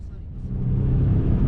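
A car drifts on ice into a hairpin bend. A deep engine rumble builds and holds loud and close through the short burst.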